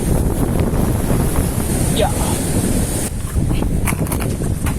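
Strong sea waves surge and wash continuously during a fishing outing, with heavy wind buffeting the microphone throughout; a voice speaks briefly over the roar.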